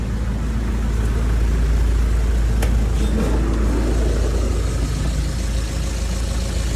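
A Nissan Estate idles with its air-conditioning compressor running, giving a steady, loud, close engine hum with a deep low rumble and a brief click near the middle.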